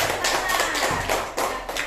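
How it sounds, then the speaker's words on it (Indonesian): Classroom group clapping hands after a student group presentation, a short burst of crisp claps in a few uneven waves, close and fairly loud. "Nah, tepuk tangan lagi."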